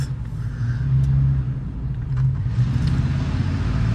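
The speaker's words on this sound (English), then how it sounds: "as a loud truck goes by" A loud truck drives past on a downtown street, its deep engine rumble steady and close throughout, with faint lighter noises over it.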